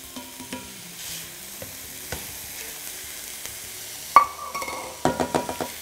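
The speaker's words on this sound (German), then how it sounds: "Und hier jetzt einfach schön krümelig anbraten." Minced meat sizzles quietly in a hot cast iron pan while a utensil scrapes and taps the metal several times, growing louder toward the end.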